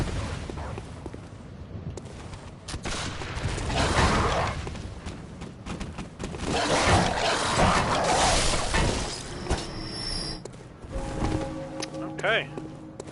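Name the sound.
pistol shots in the video game Bloodborne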